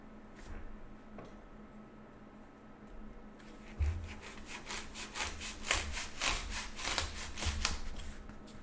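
Pool noodle being sawn into 1.5 inch rounds, a rapid series of close, rasping back-and-forth cutting strokes with a few soft thumps, no talk.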